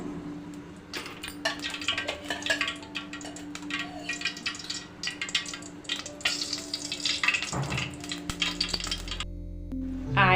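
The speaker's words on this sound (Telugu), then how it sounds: "ఆయిల్ అనేది వేడెక్కిపోయిందండి." Oil heats in a pan on a lit stove, before sliced onions go in for an egg onion masala fry, giving a close, steady crackling sizzle with sharp pops throughout and no voices.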